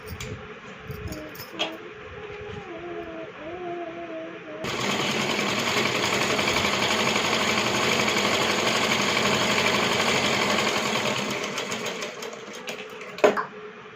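A sewing machine stitches a child's jumpsuit made from an old shirt. A few seconds of quiet handling come first, then the motor runs in a steady, close, continuous whir for about nine seconds before stopping with a click.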